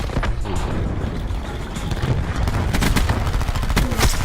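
A Cordite gun fired in a video game, with repeated rapid bursts of loud, close gunfire across the whole stretch amid other in-game mechanical clatter.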